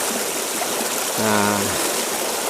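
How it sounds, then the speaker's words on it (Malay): Steady broadband rush of a stream and waterfall pouring over mossy rocks at Bukit Mor waterfall, a constant close wash of water with a brief tonal hum partway through. "Nampak air terjun dia."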